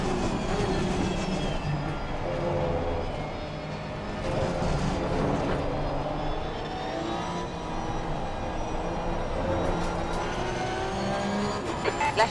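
Several Porsche Cup race cars in a simulated 80-car grid at Spa roar steadily together, engines droning and shifting pitch with a continuous dense mechanical wash and no voices.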